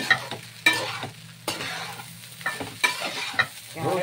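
Chicken fried rice being stirred in a pan, with a spatula scraping and clinking at irregular intervals over a soft steady sizzle, close up, no talk.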